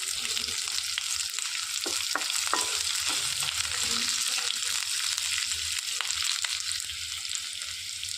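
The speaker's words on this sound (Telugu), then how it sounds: "సన్నగా తరిగి పెట్టుకున్న ఆనియన్స్ వేసుకొని వేయించుకోవాలి." Thinly sliced onions fry in hot oil with cloves, nutmeg and mace pieces, making a continuous close sizzle. Occasional clicks of stirring sound over the crackle.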